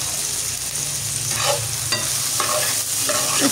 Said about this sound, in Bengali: আমি 3-4 কোয়া রসুন কেটে দিয়েছি। একটু ভেজে নিচ্ছি।